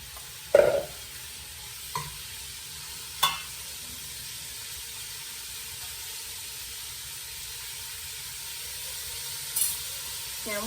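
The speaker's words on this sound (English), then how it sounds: "we're going to put in the pork first and start it to brown" Pork browning in very hot oil for jambalaya gives a steady, low sizzle across the whole stretch, with a few sharp clicks and clatters from stirring or spoon contact spaced through it.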